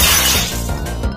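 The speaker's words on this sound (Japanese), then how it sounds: "ああ、またガラスが割れた。" Glass shatters in a comedic animated skit: one loud, sudden crash with a bright, noisy spray of breaking shards that fades over about a second, with no voices.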